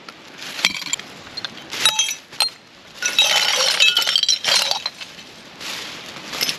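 Glass in a hot trash fire at a wild campsite cracks and clinks, with scattered sharp ticks and bursts of tinkling, crackling breakage rising and falling over several seconds.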